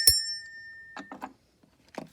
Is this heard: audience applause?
no